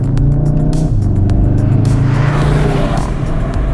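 A 228 kilowatt Volkswagen Golf 7.5R drives on a race track, its engine droning loud and steady from inside the car with a shift in pitch partway through, no speech.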